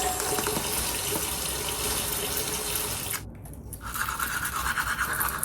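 A tap runs loudly and steadily into a sink while someone splashes water on their face, with a brief break in the flow before the rushing water resumes close by.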